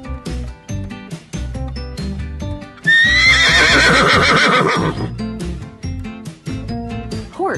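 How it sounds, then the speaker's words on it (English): A horse neighs loudly, its shrill whinny rising and then shaking down over several seconds, set against continuous background music that plays before and after the call. "Horse."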